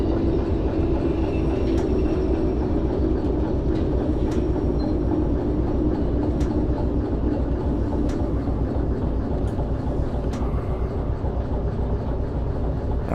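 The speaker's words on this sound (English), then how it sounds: "Just gently hitting the brakes, slowing the train down so that we can connect this up" Steady rumble of a train rolling and braking to couple up in Derail Valley video game, with occasional sharp metallic clanks spaced a couple of seconds apart; no voices.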